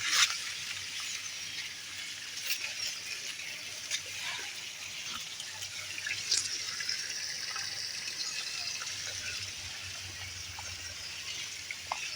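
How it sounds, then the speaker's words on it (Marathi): Water from a tap runs straight into a drip irrigation pipe laid in a maize field, giving a steady, faint hiss and trickle that continues unbroken throughout. "त्याला डायरेक्ट नळ्याने पाणी चालू आहे आपलं"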